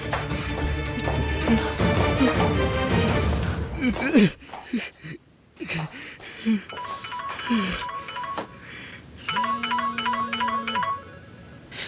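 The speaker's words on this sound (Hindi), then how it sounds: "फोन किसका बज रहा है अंदर?" After tearful voices and wailing, an electronic phone ringtone chirps in a repeating pattern of short, bright tones nearby.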